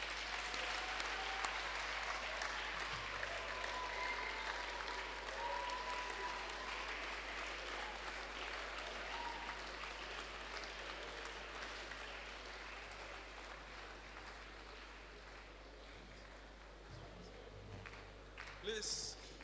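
Audience applause at a convocation lecture, a steady wash of clapping from a large crowd that sustains throughout and slowly thins toward the end, with a voice briefly heard over it.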